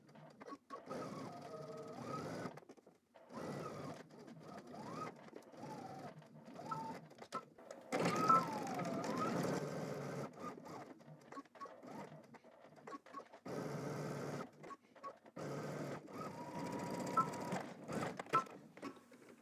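A sewing machine stitches a seam in several bursts of rapid mechanical whirring, separated by short pauses as the fabric is turned and repositioned.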